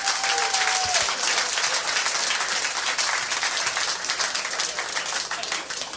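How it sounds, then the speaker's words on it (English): A round of applause at a live podcast taping fills the whole stretch: a dense, loud, continuous crowd clapping, with a brief voice at the very start. "Round of applause."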